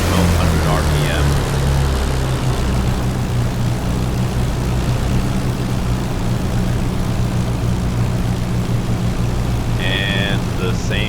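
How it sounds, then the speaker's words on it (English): Left engine of a Mosquito FB Mk.VI idling steadily in the DCS flight simulator, a continuous low propeller drone with harmonic hum held throughout, with brief higher tonal beeps near the end. "Use left throttle to stabilize left engine at 1200 RPM."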